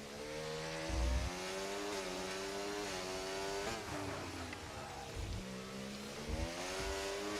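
McLaren F1 car onboard at Baku in the F1 24 racing game, its engine screaming steadily with rising and falling revs through gear changes, loud and close throughout.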